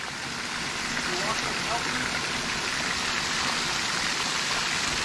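Creek water rushing and splashing steadily around someone wading across a creek, a dense constant wash that stays close and loud throughout.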